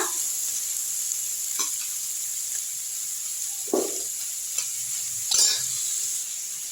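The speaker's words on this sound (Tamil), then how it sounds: "இப்போ இதில் வெங்காயம் எடுத்து போட்டுக்கோங்க நல்லா வதக்கி விட்ருங்க" Onions sauté in a pan for a quail fry under a soft, steady sizzle, broken by a few sharp spatula scrapes and clinks against the pan, with no voices.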